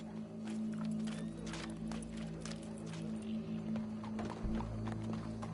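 A horse in a video game, with steady hoof clip-clops and soft shuffling steps over a constant low hum, close and fairly quiet.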